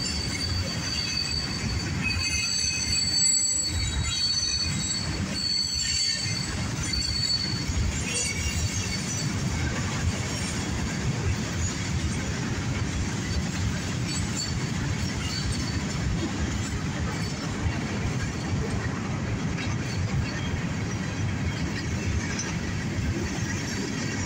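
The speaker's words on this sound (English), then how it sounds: "Lovely freight train, lovely freight train." A northbound CSX mixed freight with CN locomotives and hopper cars rolls past continuously, wheels squealing and rumbling loud and close over the full length, without talk.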